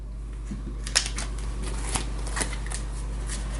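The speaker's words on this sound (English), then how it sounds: "Then we'll shuffle the discard pile." Board game cards from a Pandemic tabletop game being shuffled, a close riffle-and-bridge sequence of crisp snaps and fluttering bursts repeating a few times with no talking.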